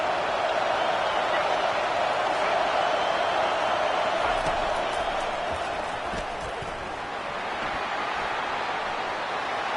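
A football stadium crowd roars loud and sustained as a team lines up for a penalty, with a broad cheering wash dipping slightly partway through and brief claps or thumps mixed in.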